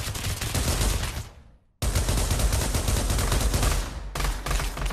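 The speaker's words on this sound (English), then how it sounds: "You guys are having an intense firefight right now." A dense firefight in the video game Pavlov Shack, with rapid automatic gunfire that is loud and continuous, broken by one brief silence before resuming.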